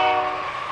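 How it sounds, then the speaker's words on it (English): A train passes near a ballpark during a Derby Twins vs. Haysville Aviators game, its horn sounding a steady, sustained blast with faint rail rumble beneath, fairly distant and moderately quiet. "Yes, that is a train that you hear in the background."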